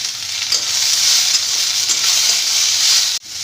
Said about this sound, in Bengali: এবার আমি এই আদা কুচিটা আর কয়েকটা কাঁচা পাকা লঙ্কা আর টমেটো কুচিটা দিয়ে আবার ভেজে নেব